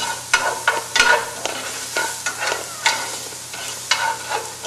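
Onions sweat in a pan with leftover bacon fat, giving a soft, steady sizzle broken by a series of sharp scraping stirs that come at irregular intervals, close and fairly loud, with no voices.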